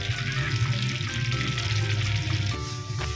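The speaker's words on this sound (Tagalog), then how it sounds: "Gagamit lang tayo ng 2 tablespoon ng butter. Ayan, tinunaw lang po natin ito." Two tablespoons of butter melting in a pan as the base for a white sauce, giving off a steady, close bubbling sizzle with faint stirring and no talking.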